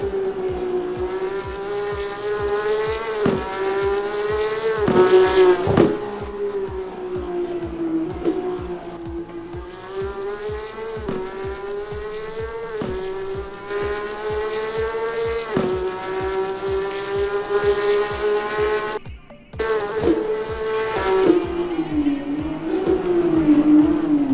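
Loud Porsche Cup race cars in a sim racing game at Zandvoort roar continuously, pitch rising and falling with gear shifts, several cars howling past close by with brief tire squeals, no talking.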